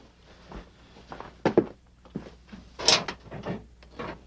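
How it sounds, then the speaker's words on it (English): A file drawer slides and thunks a few times up close, with scraping and knocks in a quiet room and no talking. "Check my file drawer, will you?"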